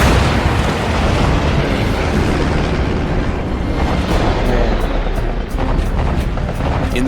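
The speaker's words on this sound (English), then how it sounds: "The explosions crater runways and demolish workshops and hangar" Bombs burst across runways, workshops and hangars during a World War II air raid on Kwajalein, a loud, dense, unbroken roar of blasts and rumbling that fills the whole stretch without speech.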